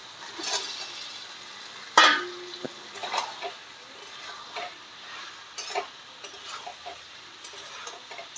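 Fish pieces for a Bengali chili fish dish go into a pan with sauce, giving a sharp sizzling burst followed by steady frying crackle and scattered stirring clicks, fairly close and alone.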